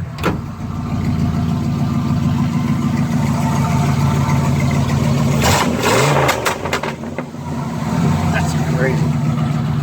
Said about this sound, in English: Now this is a 2-barrel carburetor.